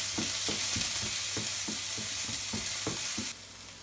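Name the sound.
onion and garlic sautéing in pan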